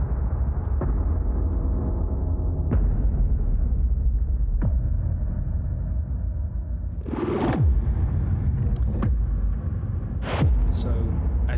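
Deep trailer sub booms from a sound effects library, several massive low-end hits with swept, whooshing tails arriving one after another, loud and continuous with heavy rumble underneath.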